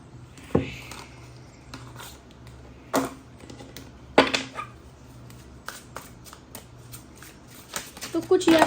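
Tarot cards are shuffled by hand in quick, papery riffling bursts. The shuffling is close and is broken by pauses, and a voice speaks over parts of it.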